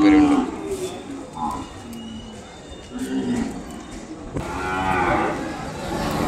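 An Ongole calf moos at a busy cattle market in Kodada. Several drawn-out, close moos sound over steady crowd and livestock background noise.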